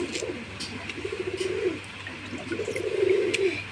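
A pigeon coos nearby in two drawn-out, throaty phrases over a steady low background hum.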